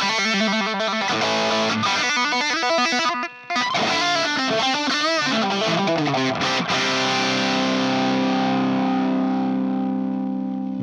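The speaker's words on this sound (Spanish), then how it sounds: "Luego vienen los Plexi, que son las emulaciones de los Marshall," Electric guitar runs through the NUX MG30 multi-effects unit's Marshall Plexi amp emulation at its default setting, giving loud, gritty distorted strums and note runs that end in a long ringing sustained chord, with no talking.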